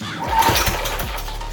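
A stretched mini bike's small engine fires on its first start with no exhaust fitted, giving a brief, loud, raw burst of uneven popping and rough running.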